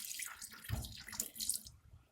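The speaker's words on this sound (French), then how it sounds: "j'ajoute 200 g d'eau du robinet, un peu tiède" Slightly lukewarm tap water is poured onto 30 g of grated soap in a Thermomix bowl, a short splashing gush in uneven surges that cuts off cleanly near the end, close by with no talking.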